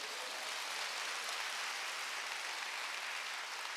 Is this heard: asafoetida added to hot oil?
no